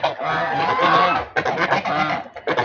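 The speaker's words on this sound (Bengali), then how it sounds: "এখন আমার আছে 6টা রাধা হাঁস।" A small flock of domestic geese kept at home honks loudly and continuously at close range, with overlapping calls that break briefly before resuming.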